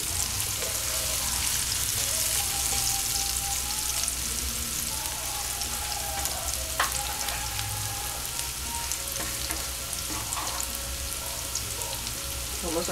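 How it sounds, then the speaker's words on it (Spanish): Chicken sizzling steadily in a hot frying pan for bay-leaf chicken thighs, a dense continuous crackle with occasional stirring clinks, close and alone with no talk. "Sofreímos un poquito para ahora incorporar el pollo."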